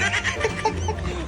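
A chicken clucking nearby in short, soft bursts over a steady low background.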